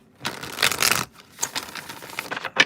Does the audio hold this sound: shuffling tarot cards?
yes